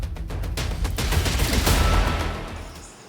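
Diwali firecrackers burst in a rapid, crackling volley, dense pops rolling together for about three seconds before trailing off, loud and close with no talking.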